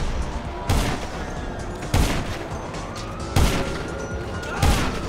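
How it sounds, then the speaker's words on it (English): Minigun fire in a video game sounds as loud, heavy bursts recurring about every second and a half over a dense, continuous roar of game noise. "now lay him down with that minigun"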